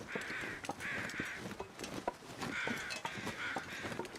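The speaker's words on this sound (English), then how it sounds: "Yes, the busy, busy crows." Outdoor crows caw in repeated harsh bursts, several calls in quick pairs, moderately close over a faint rustling background.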